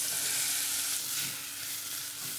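Chopped onion fries in a pan with cumin seeds and browned garlic, making a dense, steady sizzling hiss close by, with faint soft stirring movements and no voices.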